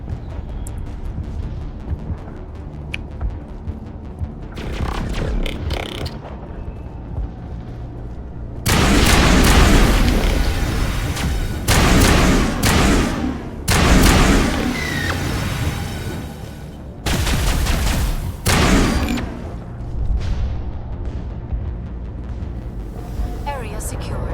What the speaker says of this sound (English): that assault rifle is insane